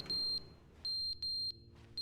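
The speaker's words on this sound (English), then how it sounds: "What's that beeping? I don't think that was there before. That must be a fire alarm or something." Fire alarm beeping in The Stanley Parable video game: sharp, high electronic beeps repeating in an uneven rhythm, fairly clear against a quiet background with no talk.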